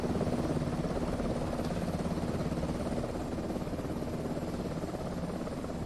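A helicopter turbine idles on the ground in MSFS 2024 after parking beside a Chinook and an MH60, with a steady droning whine and rhythmic blade thump, close and continuous.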